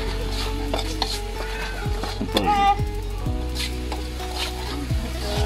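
Ingredients for sambal sizzle and fry in a pan while a utensil stirs and scrapes against it, with a few brief spoken words in Malay over the cooking.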